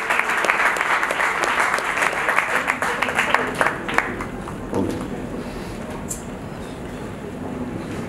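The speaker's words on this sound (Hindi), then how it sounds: "तालियां एक बार जोरदार वाली होनी चाहिए आपकी" An audience at a poets' award ceremony in India gives a vigorous round of applause, dense clapping that is loud at first and then fades into a low murmur of the hall.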